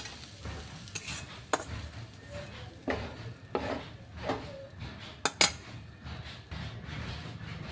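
Cooked putkimara greens are scraped and tipped from a cooking pan into a serving pot, with scattered metal scrapes, clinks and soft thuds of utensil against cookware at close range, no voices.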